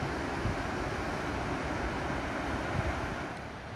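Wind and surf on Sheepies Beach along the Heysen Trail: a steady, broad roar of waves and gusting wind buffeting the microphone, loud and continuous with no voices.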